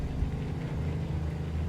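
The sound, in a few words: Cummins N14 truck engine humming, American Truck Simulator video game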